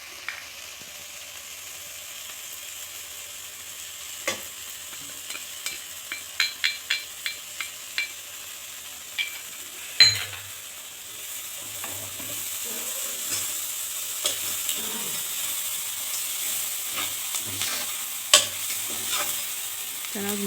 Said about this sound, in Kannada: ಈಗ ಅರಿಶಿನ ಪುಡಿ ಹಾಕ್ಕೊಂಡು ಮಿಕ್ಸ್ ಮಾಡ್ಕೋಬೇಕು